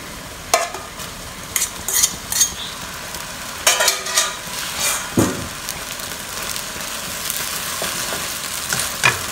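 Pad thai noodles stir-fried in a pan, soft continuous sizzling broken by repeated scraping and clinking strokes of a spatula, close by and moderately quiet.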